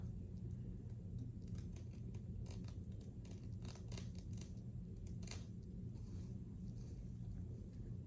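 Scissors trim the lace along the hairline of a wig, making a run of quiet, close, crisp snips in the middle seconds over a low background hum.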